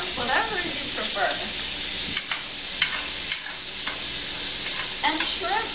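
Defrosted shelled shrimp sizzle in a hot pan with a continuous bright hiss, broken by occasional scrapes and stirring knocks, while a voice is faintly heard at times.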